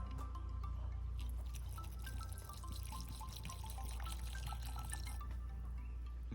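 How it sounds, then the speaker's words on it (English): Blue gin poured as a double tot for a gin and tonic, a soft, faint liquid trickle with light drips running steadily under a low background hum. "Of course, now onto the pouring."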